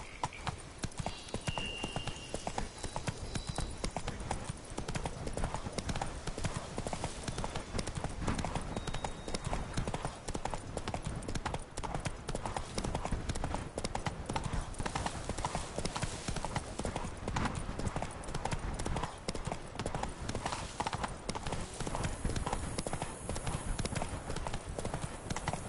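Horse galloping in a PS4 video game, The Witcher 3, a continuous rapid drumming of hoofbeats up close, with some game speech faintly underneath.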